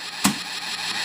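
An Accel Driver belt from the Kamen Rider toy line, Complete Selection Modification edition, lets out a short, sharp electronic engine-rev burst that settles into a steady mechanical hum, loud and close with no talking.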